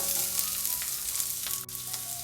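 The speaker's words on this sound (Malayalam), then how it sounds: "സവാള ചേർത്തിട്ട് നന്നായിട്ടൊന്ന് വഴറ്റി കൊടുക്കാം." Chopped onion sautés in a pan for a kosumalli curry, making a dense, even sizzle that carries on without a break and with no talking.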